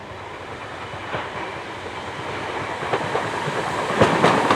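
A Southern passenger train arrives at Barnham station, its clickety-clack of wheels on rail joints growing gradually louder over a low steady rumble, with a few sharper clanks toward the end.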